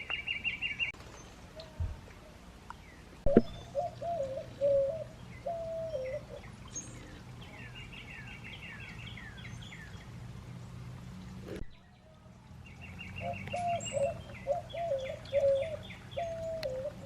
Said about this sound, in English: There's a bunch of feeders here. Oh my gosh. Look at all of them. There's a bunch of birds.